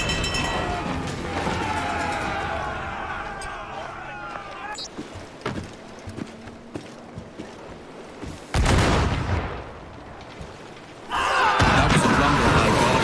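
Booming cannon blasts from the game Assassin's Creed Black Flag go off in bursts, with a loud volley near the middle and another at the end, amid game sounds and voices.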